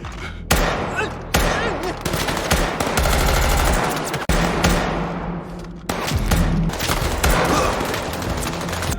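Sustained automatic gunfire in a Squid Game season 2 scene, loud dense bursts of rapid shots and thuds rattling almost continuously with brief breaks.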